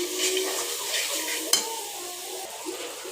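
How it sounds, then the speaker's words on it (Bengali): Turmeric, black cumin and coriander powder frying in a little oil with chicken and turnip, a soft continuous sizzle under close scraping and stirring, with a sharp utensil clack partway through. "আমি মশলাগুলোকে ভালো করে ভেজে নিচ্ছি"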